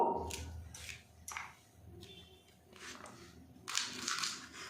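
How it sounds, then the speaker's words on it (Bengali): Flat beans are cut into pieces in a kitchen, giving a series of crisp, close snapping crunches spaced irregularly about every half second, with a louder, longer crunch near the end. "সবগুলো সিম আমি এইভাবে কেটে নেব"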